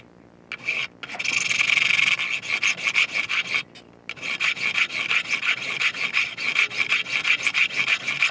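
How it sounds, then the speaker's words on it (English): A 35-degree fret file bevels the fret ends on a bell bronze acoustic guitar during a refret, rasping in steady back-and-forth strokes, close and fairly loud, with two short pauses. "with this file. So this it's got a 35-degree angle on it. So when you do this and you run it through, you're slowly getting that the bevel on the frets."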